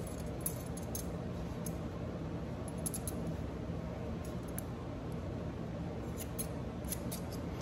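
Quiet, scattered snips of curved scissors trimming an Australian Labradoodle's ear hair click intermittently over a low background hum, close and faint.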